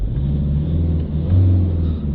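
A Fiat Ducato 2.3 diesel engine is revved briefly. A low, steady rumble swells slightly midway and then settles, recorded close with no talking.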